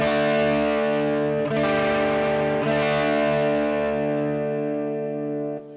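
Electric guitar chords through a Zoom Memory Man-style analog delay ring out, each strum followed by soft echoing repeats that smear the sustain before the sound fades away.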